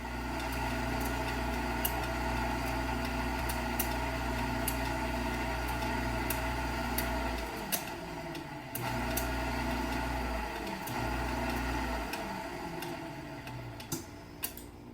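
A vintage 1977 Hobart KitchenAid Superba portable dishwasher runs its cycle with a steady low mechanical hum, regular soft ticking from the timer, and brief pauses where the motor drops out before resuming.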